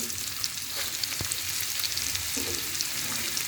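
Carrots frying in a pan of hot oil for vegetable spring roll filling with chicken liver, a steady close sizzle with a brief louder crackle and stirring scrapes throughout.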